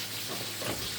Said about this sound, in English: It's steaming while our fish is frying.